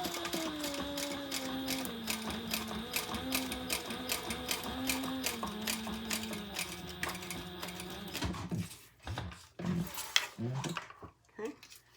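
A sewing machine top stitches the bottom gusset of a fabric pouch, running in a fast, steady rhythmic whir of needle strokes for about eight seconds before stopping, followed by a few scattered clicks and handling sounds.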